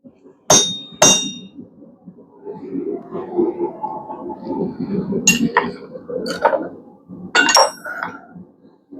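A hammer drives a chisel head into a steel bar being slit for a blacksmith-made bottle opener, giving about six sharp ringing metallic strikes spaced unevenly, with quieter shuffling and scraping between them.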